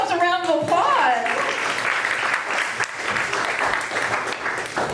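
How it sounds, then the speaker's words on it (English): A comedy club audience at a comedy theater breaks into applause right after a speaking voice, and loud dense clapping holds for several seconds with cheers mixed in. "Give yourselves a round of applause."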